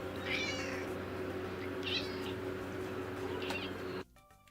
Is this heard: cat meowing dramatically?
yes